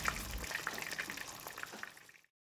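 Ekado dumplings sizzle and crackle as they fry in hot oil, a dense bubbling hiss with small pops that fades out at the end.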